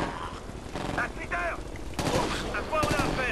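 Automatic gunfire from a submachine gun in the PC shooter Ghost Recon: Future Soldier, loud bursts coming in two clusters around other game sounds and effects.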